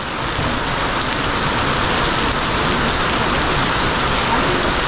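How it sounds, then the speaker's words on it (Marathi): Steady monsoon downpour at Marleshwar temple and waterfall in Konkan, loud and close, a constant roar of rain hitting the ground and nearby surfaces throughout. "भरपूर मोठा पाऊस आला आहे थांबावं लागणार आहे"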